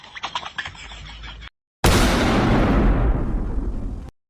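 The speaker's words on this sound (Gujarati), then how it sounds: "બહાર જઈને જોજે કોણ ફટાકડા ફોડે છે" Firecrackers go off outside: after some light clicks and a moment of silence, one loud blast erupts and its crackling hiss fades away over about two seconds.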